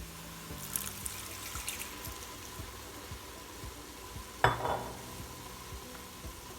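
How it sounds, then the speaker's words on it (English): White wine poured into a hot pan of mushrooms for soup over high heat, a faint sizzle and trickle that flares into a sharp, loud hiss partway through, then settles back. "I'm going to add some white wine."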